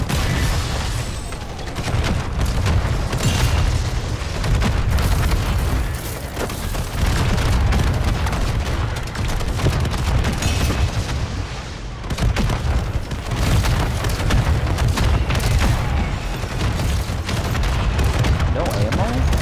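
Rapid RGL grenade launcher blasts and surrounding gunfire in MW3 Zombies, a dense, continuous barrage of booming explosions and shots with brief lulls, loud throughout and mixed with faint voices.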